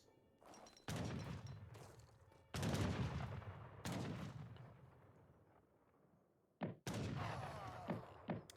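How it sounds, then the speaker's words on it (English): Musket volleys in an Age of Empires III battle, with Azap infantry firing on Dragoons: several loud, crackling bursts that each fade out, some overlapping, heard far-field and booming. "Azap's going to be firing at these Dragoons"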